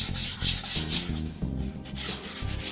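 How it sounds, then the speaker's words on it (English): Sandpaper rubs back and forth by hand over a wooden rifle stock, with the grain, a close, rhythmic scratchy rasp with short repeated strokes. "you gotta sand with the grain"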